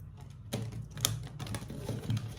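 Tarot cards are shuffled by hand, producing close, soft riffling and flapping bursts that rise and fall across a quiet room, with no voice present.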